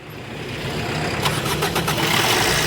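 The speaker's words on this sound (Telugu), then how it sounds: "ఇప్పుడు ఇంజిన్ స్టార్ట్ చేద్దాం. స్టార్ట్ చేయనా." A diesel engine starts after air is bled from its fuel system, catching quickly and settling into a steady, loud running rumble with some rhythmic pulsing.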